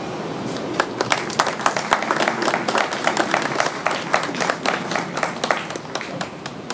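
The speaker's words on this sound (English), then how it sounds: "How about one more round of applause for these guys?" An audience claps at a ribbon-cutting ceremony for an exhibit at The Alamo, with a scatter of distinct, crisp hand claps at moderate density. The applause holds fairly steady throughout, with faint crowd murmur underneath.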